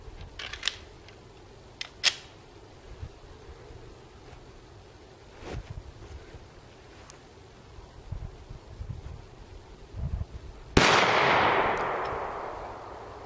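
A 9mm pistol fires a Federal Premium 150 grain HST hollow point round. There are a few faint clicks and knocks at first, then one loud, sharp report near the end that rings out in a long decaying tail.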